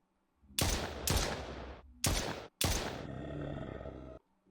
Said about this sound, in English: Okay, I've got 15 bullets left. Let's make them count.